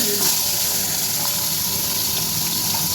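A fish head sizzling in hot oil in a wok while making a Bengali pui shak chorchori, a steady loud hiss and crackle with no break throughout.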